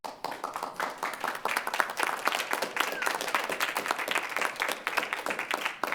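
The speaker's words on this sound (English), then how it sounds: "Stop the applause, that would be great" Applause and clapping fill a city council chamber after a vote, a dense patter of hands sustained at moderate loudness with some individual claps standing out.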